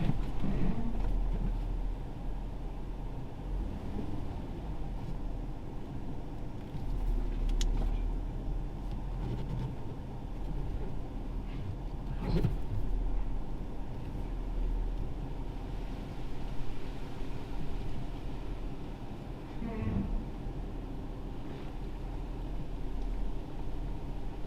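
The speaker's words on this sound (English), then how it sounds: "We're going to put the truck into reverse and start backing down" A truck reverses slowly down a boat ramp, its engine a steady low rumble lasting throughout with faint outdoor wind noise and occasional small knocks.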